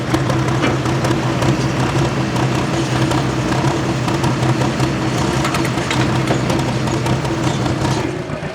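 Pro Stock semi truck "Big Mo" from Uniontown, Pennsylvania, at a truck pull, its engine rumbling loud and steady with a deep low drone throughout, no talk over it.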